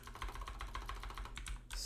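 Rapid typing on a computer keyboard, a quick run of soft, close key clicks with a few firmer taps, faint and uninterrupted by any voice.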